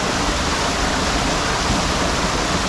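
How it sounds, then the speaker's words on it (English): Hot spring water from a volcano flows steadily in a loud, unbroken broadband rush, like a small waterfall or fast stream, close by with no voices over it. "Natural spring water, hot spring water coming from the volcano."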